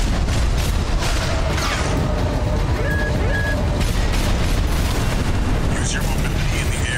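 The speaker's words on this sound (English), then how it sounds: "Use your movement to be in the air to get clear of explosions on the ground." Explosions from ground attacks in the mech combat game Armored Core VI, a steady loud rumbling barrage of booms and blasts with game effects layered on top, while a person talks over the action.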